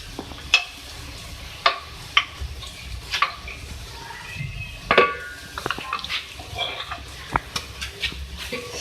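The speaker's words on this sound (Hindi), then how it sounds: "और अब इसको जो है फ्राई करेंगे डाल के इसके साथ।" Ginger garlic paste fries in a pan with a steady crackle, punctuated by sharp clicks and scrapes of a spoon stirring against metal, close by and without talk.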